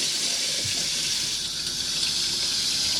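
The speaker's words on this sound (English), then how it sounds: "So as long as you've got your pump on, you'll get a pressurized flow of water." Pressurized water runs from the pump-fed sink tap of a Chausson Exclusive Line X550 motorhome, a steady close gushing hiss that holds unbroken for a few seconds with no talking.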